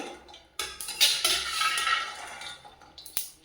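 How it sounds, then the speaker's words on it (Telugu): Peanuts frying over a slow flame in a metal pan, with a steady rattling, scraping rustle as they are moved around, and a few clinks of the utensil against the pan, close and alone. "ఇప్పుడు ఇందులో స్లో ఫ్లేమ్లో వేయించాలి. ఇలా వేగుతాయి."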